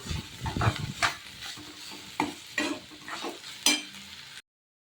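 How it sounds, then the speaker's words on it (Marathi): Onion and garlic fry in a pan, with repeated stirring scrapes and soft sizzling bursts for about four seconds before the sound cuts off. "कांदा जरा फ्राय झाला ना त्याच्यामध्ये टाकून घ्यायचं थोडं फ्राय करून घेते"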